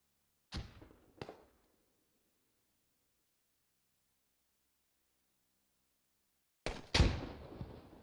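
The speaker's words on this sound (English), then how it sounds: "IED explosion off to the north" IED explosions in the video game Squad. Two sharp blasts come close together, then after a long silence a louder, fuller detonation with a rumbling tail follows.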